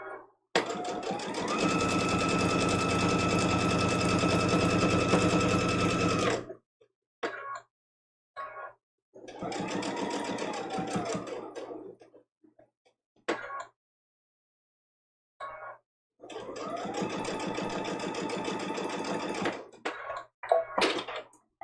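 A domestic sewing machine stitching a small woven logs quilt block, running in several bursts of steady whirring, one long run, then short stops and starts, with quiet pauses between.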